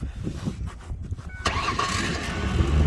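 A truck's engine cranks and catches, then settles into a steady, fairly loud rumble that continues to the end with no one speaking.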